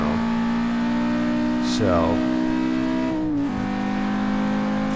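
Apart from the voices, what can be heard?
Audi RS2 engine accelerating on hot lap at Hockenheim Ring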